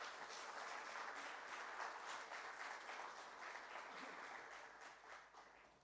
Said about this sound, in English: A big round of applause for all our PGs.